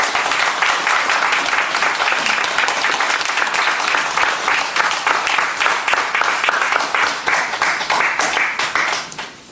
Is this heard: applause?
yes